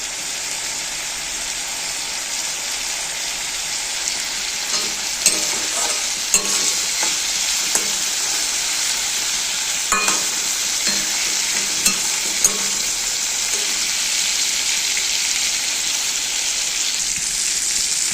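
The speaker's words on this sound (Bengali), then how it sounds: "এবার এগুলোকে একসাথে একটুখানি কষিয়ে নেব" Bitter gourd and potato being stir-fried together in a pan, a steady hissing sizzle with scraping stirs and occasional clinks, close and continuous.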